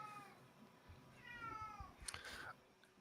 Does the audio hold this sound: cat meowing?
yes